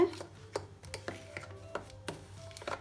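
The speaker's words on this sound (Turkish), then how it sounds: "Şöyle bir karıştırıyorum çatal ile." Fork stirring half-frozen cocoa ice cream in a container, giving a series of short scraping, clicking strokes at an uneven rhythm, close and fairly quiet, with no talking.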